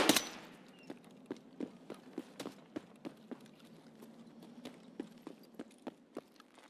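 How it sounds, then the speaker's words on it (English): Distant gunfire in the video game Escape from Tarkov: an initial sharp crack, then a long series of faint, irregularly spaced shots echoing from far away. "Yeah, that's a lot of shooting back there."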